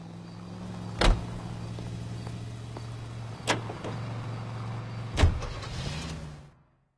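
A car in L.A. Noire drives with a steady low engine hum, broken by three sharp knocks or thuds spaced across the run before the motor cuts out at the end.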